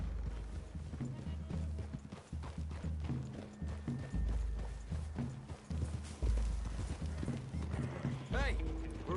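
Horses walk through a clearing in the video game Red Dead Redemption 2, their hooves clip-clopping in a steady rhythm, with a brief whinny, under a voice and other game sound.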